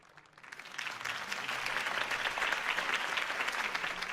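Crowd applause at a political campaign rally in the video game Batman: The Telltale Series, fading in quickly then swelling into a sustained, fairly distant wash of many hands clapping, heard alone.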